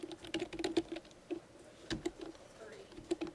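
Typing on a computer keyboard during a recorded programming class, quiet, irregular bursts of clicks, near and faint, with no talk.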